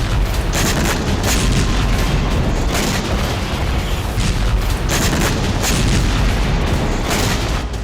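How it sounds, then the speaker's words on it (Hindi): Heavy Russian military bombardment in Ukraine: dense, continuous rumbling barrage of booms and crackling blasts, loud and sustained throughout with repeated sharper bursts and no speech. "पुतिन सेना लगातार भीषण बमबारी कर रही है"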